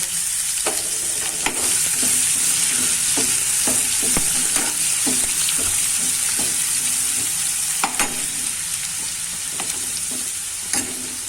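Chilli, ginger and garlic hitting hot oil: a loud, continuous sizzle that holds throughout, with repeated clinks and scrapes of a spoon stirring the pan.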